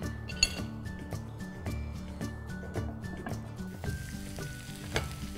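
An Indo-Chinese stir fry of potato and pepper sizzles steadily in a pan, with a few clinks of a utensil against the metal over the continuous frying hiss.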